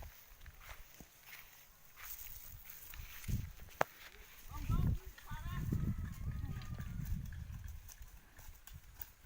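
A horse's hooves clip-clop on the ground in hot weather, a few irregular close knocks among outdoor background noise, with people talking intermittently over the steps.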